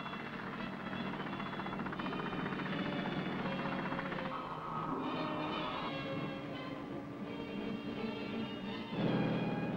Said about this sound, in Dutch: komen de heli's naderbij om met hun gevoelige sonar, die ze uit het toestel laten zakken, de positie nauwkeurig te bepalen